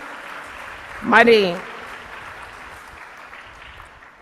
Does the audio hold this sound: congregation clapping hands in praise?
yes